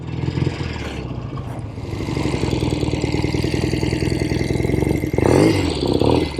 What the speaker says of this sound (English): 1970 Royal Enfield Interceptor Mark II. One of the last ones made. Just a real treat of a machine to ride.